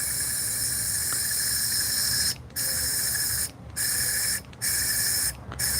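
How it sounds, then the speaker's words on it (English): Air from a compressor-fed airbrush hisses steadily while leather is being painted. The spray breaks off in several short pauses, sounding close and fairly loud with no talking. "that air compressor is going to make me jump again."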